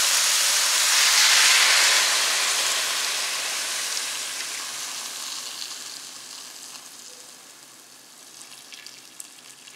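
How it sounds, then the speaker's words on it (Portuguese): Hot water poured into a cooking pot for a chicken-feet and taro broth already holding tomato sauce, giving a loud steady hiss and sizzle that swells early, then slowly fades and thins toward the end, with no talk. "E agora eu vou acrescentar água. Água quente para adiantar."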